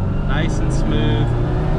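A Mini Balmoral Edition car accelerates on a test drive, its engine note rising steadily under close, continuous cabin noise.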